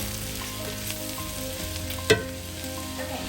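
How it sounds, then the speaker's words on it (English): Mushrooms fry in a pan with a steady, even sizzle close by. A single sharp clink of a utensil sounds partway through and no one speaks. "We'll let the mushrooms get nice and golden brown as well"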